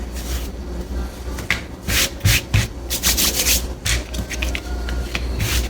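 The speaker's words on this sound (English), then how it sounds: "So if you get like excess flour on here, you can just wipe it off." Excess flour being wiped off a work surface while making apple roses: a run of dry rubbing and scraping strokes, close and fairly loud, with no talk.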